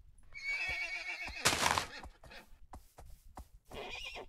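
A horse in the Minecraft video game whinnies loudly and alone, a long wavering neigh followed by short snorting bursts and a second shrill whinny near the end.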